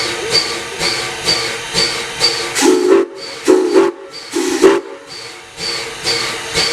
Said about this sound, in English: The conductor has signaled a 3-minute warning whistle, which the engineer will comply with